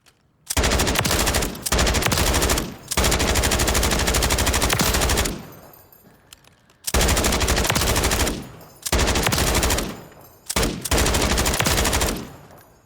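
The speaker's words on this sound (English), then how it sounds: "So let's go ahead and jump into the firing range of these. We'll start with the Para SAW, just because it's a beautiful weapon." Para SAW light machine gun in Call of Duty Modern Warfare III on a firing range, loud sustained automatic bursts, five long strings of fire with brief pauses between them, no talking.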